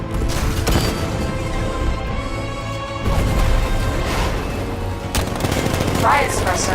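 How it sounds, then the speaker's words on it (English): An unmanned tank's machine gun fires in Batman: Arkham Knight, a loud, dense roar of gunfire that runs the whole time with bursts of combat noise layered over it. "Riot suppressor engaged."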